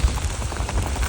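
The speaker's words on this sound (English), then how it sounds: "Hail is unbelievable." Hail pelts a cyclist riding through winter Japan, a dense, continuous patter of small hard impacts and rushing noise close by, with no voices.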